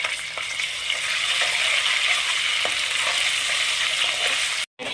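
Ginger-garlic paste sizzles steadily in hot oil in a pan while chicken iguru is cooked, a dense continuous frying hiss with a few faint stirring knocks and a brief dropout near the end.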